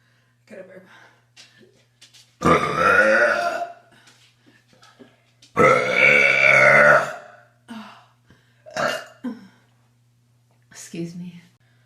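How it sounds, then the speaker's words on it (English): Two long, drawn-out belches from a woman dominate, close and loud, surrounded by small breathy sounds and soft whispered bits, with brief quiet gaps and a faint low hum throughout. "Ooh, got a burp."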